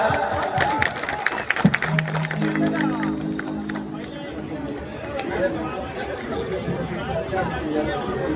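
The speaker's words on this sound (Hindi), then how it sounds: "ताली बजाओ यार।" An audience in a crowded hall claps in scattered bursts amid lively chatter and crowd noise, with a voice speaking over the mix.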